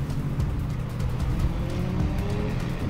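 A Hyundai Ioniq 5 N playing its synthetic engine sound, heard as a fairly faint, steady motor-like drone with a slight pitch shift, heard from a distance with no talk over it.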